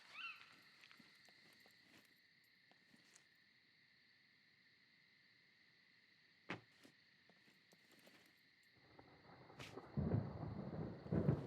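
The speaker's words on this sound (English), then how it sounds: "Got a little storm going on." A game thunderstorm in Scum: steady insect-like chirping tones over faint rain, a sharp crack of thunder partway through, another strike later, then a louder rumbling roll building at the end.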